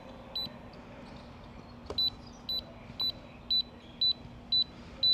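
A Chigee AIO 5 Play anti-theft alarm fitted on a parked Honda ADV 160 motorcycle beeps in a steady, evenly spaced series of short, sharp double tones, about eight repeats, over a low background hum.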